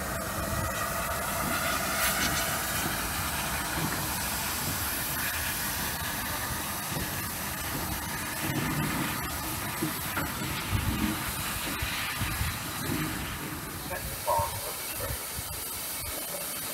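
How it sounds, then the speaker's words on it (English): Steam locomotive Hagley Hall hissing steadily at a station platform while coupling up to its train, a constant broad hiss of escaping steam with faint clanks and rumbles underneath, no talking. "see the locomotive couple up to the train"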